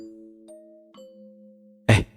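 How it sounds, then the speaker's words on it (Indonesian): A two-tone ding-dong bell sounds once, marking the start of work at a company staff mess, its sustained tones ringing clearly and alone before a short loud burst of noise. "itu bel tanda masuk kerja udah bunyi"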